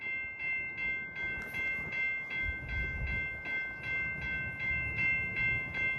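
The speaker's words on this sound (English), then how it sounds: "It's a freight train!" A freight train rolls past, a steady rumbling roar with a sustained tonal horn-like drone and a rhythmic pulsing beat of the cars, moderately distant and fairly quiet with no talk.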